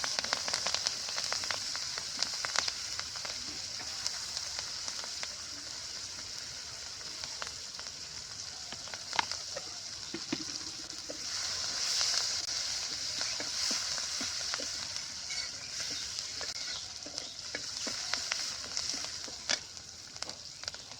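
Sliced onion and green chili frying in hot oil, a steady soft sizzle and crackle close by, running continuously with occasional louder pops.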